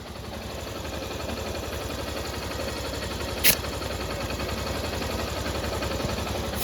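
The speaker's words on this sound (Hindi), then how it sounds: "इसका हेड सिलेंडर फिटिंग कर दिया और आप इंजन की साउंड को भी सुन सकते हैं।" A Honda Shine motorcycle engine, freshly rebuilt with a new cylinder kit and head, idles with a steady, even low chug up close, with one brief sharp click midway and no other noise.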